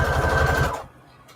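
A sewing machine runs a straight stitch on junk journal embellishments, a fast even rattle of needle strokes for under a second that then stops abruptly.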